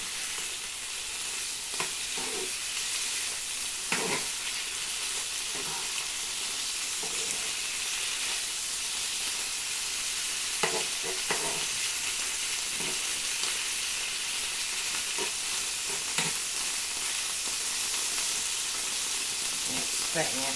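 Hashed beef fries in a hot pan with a constant dense sizzle and hiss, spitting steadily with occasional sharper crackles and soft knocks of stirring throughout.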